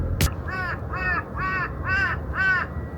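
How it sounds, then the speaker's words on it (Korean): A crow caws five times at a steady, even pace outdoors on a mountain, loud and clear and fairly close, after a brief bump at the start. "마이갓 까마귀가 울고 있어"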